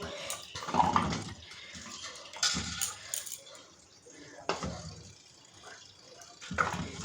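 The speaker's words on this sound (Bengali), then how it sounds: "তো একটা বোলে জল নিয়েছি বাটিগুলো আমি জলে কিছুক্ষণ ভিজিয়ে রেখে তারপরে আমি বাদবাকি কাজগুলো করব" Small bowls are set down into a bowl of water to soak, giving a run of soft clinks, splashes and watery sloshes, close and fairly quiet, with pauses between.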